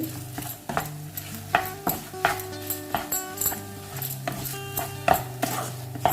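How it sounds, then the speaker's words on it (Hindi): Mawa and paneer are stirred together in a pan, a spoon scraping and knocking against the metal in a quick repeated rhythm with a soft sizzle underneath, close and clear. "ये मावा डाल दिया। इसी में हम डाल देंगे पनीर। हम इन दोनों को चलाएंगे।"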